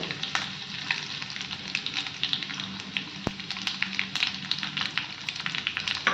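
A tempering of green chillies, curry leaves and sesame seeds for Gujarati khandvi crackles in hot oil, busy and close, with constant sputtering pops and one sharp clack.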